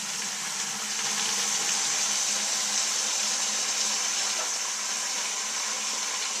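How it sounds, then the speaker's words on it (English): Water pours steadily from the drain valve of an Ariston water heater into a bucket, a continuous even hiss and splash that holds at the same level from start to finish, with no speech. "start to run water into your bucket"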